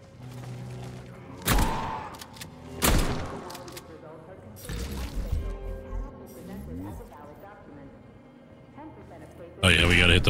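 Gunfire in the Atomic Heart video game: several sharp, loud shots at irregular intervals over a busy game soundscape, ending in a burst of bright, noisy action.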